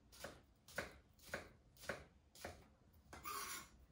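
Knife chopping a red onion on a cutting board, five crisp, evenly spaced cuts about half a second apart, ending in a brief scraping sweep, close and quiet with no talking.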